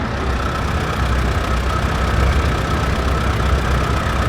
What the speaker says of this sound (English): This is a 1946 Allis Chalmers WC.